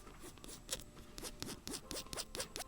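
Rhythmic scratchy scraping of the serrated blade of Tonic Studios Tim Holtz craft scissors, close up and quiet, a rapid series of rasping strokes with no voices.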